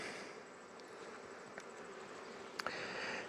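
Honey bees hum around a hive frame, a faint, steady drone with a few sharper buzzes as individual insects pass close.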